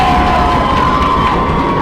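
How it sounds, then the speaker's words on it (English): A gym crowd at a girls' Class C regional basketball game roars steadily, a dense wash of cheering and stamping feet that holds constant for a couple of seconds. "Step over here, we'll get the crowd noise. Picking it up. Pounding their feet."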